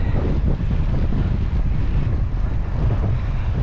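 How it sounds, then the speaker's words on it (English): Strong, steady wind buffets the microphone with a constant low roar, gusting slightly but never letting up. "Still very windy."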